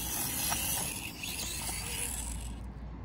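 An Axial SCX24 RC crawler with an upgraded motor runs flat out, giving a close, steady high-pitched whine and gear chatter that cuts off near the end.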